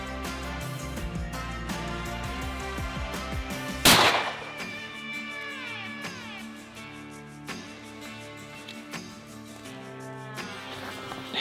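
Single loud gunshot fired during a turkey hunt in Washington State, a sharp broadband crack at about four seconds that rings out and decays over tonal background sound, with quieter bird-like chirps and activity around it.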